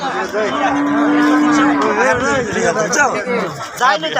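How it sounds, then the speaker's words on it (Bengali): A large cow lets out a long, loud moo close by at a village market in Dharmapasha, Bangladesh, with a crowd chattering all around it. "বড় গরু"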